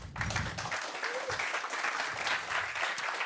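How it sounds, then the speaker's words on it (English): Audience applause for a speaker at the OHM2017 hacker camp talk on solar-powered autonomous routers, a steady, dense wash of many hands clapping throughout with no speech over it. "Give him a warm applause, please."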